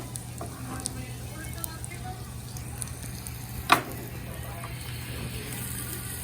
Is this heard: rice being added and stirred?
yes